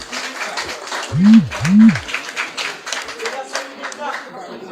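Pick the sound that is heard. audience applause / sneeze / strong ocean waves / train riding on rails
audience applause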